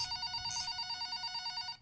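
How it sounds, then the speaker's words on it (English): An office telephone rings in a garage, a faint trilling electronic ring that warbles rapidly and steadily for under two seconds, heard from a distance with no talking. "that is the office phone ringing"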